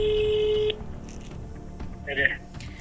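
An outgoing phone call gives a steady electronic ringback tone that cuts off abruptly, followed by faint background noise and a short tonal beep.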